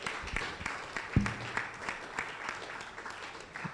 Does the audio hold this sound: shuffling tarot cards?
no